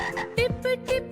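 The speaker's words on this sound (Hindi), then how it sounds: "मेंढक गा रहा है" Frog croaking in a short series of quick, close, loud croaks with brief gaps between them, while a voice speaks over the calls.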